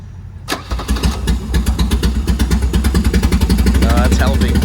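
A Mercedes car engine cranks and catches, then settles into a loud, rapid, even idle pulse close by, while people talk near the car on a trailer.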